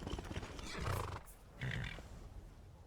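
A horse in Skyrim whinnies loudly near the one-second mark, then snorts and neighs again, with steady clip-clop hooves underneath throughout.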